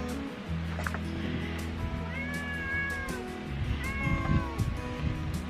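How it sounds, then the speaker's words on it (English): A cat meows twice nearby, drawn-out plaintive calls over a background of kitchen clatter and low hum. "Got a cat below me here."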